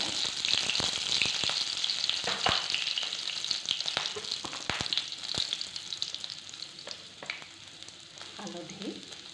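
Nigella and cumin seeds fry in hot oil with a loud, steady sizzle and scattered sharp crackles and pops, close up, with occasional utensil scrapes and no talking.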